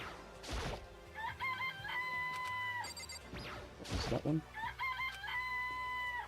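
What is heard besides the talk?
chicken clucking and crowing in the video game Danganronpa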